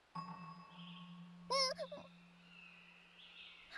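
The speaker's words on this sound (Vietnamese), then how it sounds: "Đập chuông hoa nhẹ nhàng thôi." A flower bell struck in a cartoon gives one bright ringing chime that wavers briefly and fades, heard alone over a steady low hum.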